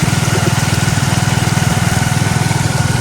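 A motorbike engine chugs steadily at close range while riding through floodwater, its low, even pulsing rhythm holding without a break.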